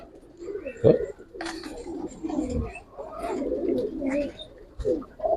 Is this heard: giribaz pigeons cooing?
yes